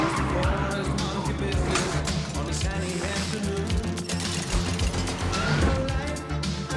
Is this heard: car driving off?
yes